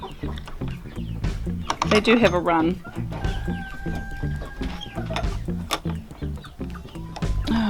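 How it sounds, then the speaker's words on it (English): About fifty chickens in a homestead coop cluck and squawk close by, busy and overlapping, while a person talks over them. "we've got about 50 odd chickens in there"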